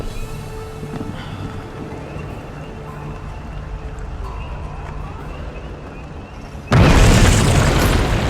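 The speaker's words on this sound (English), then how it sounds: "I think they're setting up some kind of bomb." A bomb goes off in the video game We Happy Few: a sudden loud, broad blast near the end that keeps roaring after a stretch of low rumbling game ambience.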